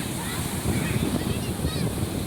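Sea waves at Ochira Azheekal beach in Kerala, a continuous rushing wash of surf with wind buffeting the microphone, close and fairly loud with no talk.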